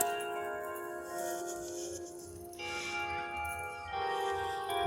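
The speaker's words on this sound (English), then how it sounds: "bells." Church bells ring with sustained, overlapping tones, struck again several times so that fresh peals layer over the fading hum, fairly close and steady with no talking.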